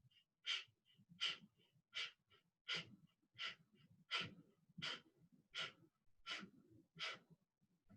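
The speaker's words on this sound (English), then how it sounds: "you inhale and exhale forcefully through the nostrils like this." Forceful breaths pushed through the nostrils come in a steady rhythm of about ten sharp, close puffs, each a short hissing burst separated by quiet gaps.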